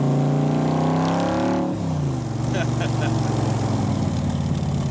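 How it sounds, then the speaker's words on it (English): A 1965 Backdraft Cobra with a Roush 427 engine revs up, dips sharply on a downshift, then burbles and crackles at a lower pitch, loud and close. "When you downshift it just sounds so good."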